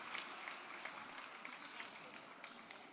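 A luncheon audience applauds the sponsors of a women's policy roundtable, a soft, fairly distant patter of clapping with a few sharper claps rising out of it.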